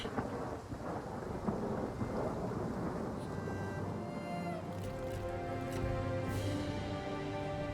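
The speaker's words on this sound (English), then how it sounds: "It's raining. That's not what we want to see." Rain and rolling thunder in a strategy video game, a steady downpour under a long, loud rumble that swells and fades, with tonal game music layered in toward the end.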